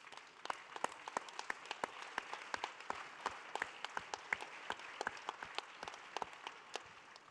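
Faint, sparse applause from an audience at a Paris debate, welcoming a tribal chief from Rondônia. Individual claps stand out sharply and irregularly over about seven seconds of quiet room tone.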